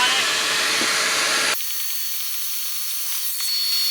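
Spray cleaning solution hissing onto a dirty cargo carpet in a Chevrolet HHR during a Bissell Little Green ProHeat shampoo, one steady broadband spray burst that cuts off to a quieter airy hiss.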